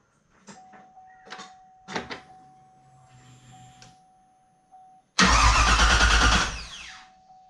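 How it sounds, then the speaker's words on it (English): A TBSS 6.0 V8 engine on a build is cranked after a few clicks and mechanical rattles, then catches with a loud, close roar that holds for about a second and a half before dropping away. "plug in the injectors, and then we'll actually start it"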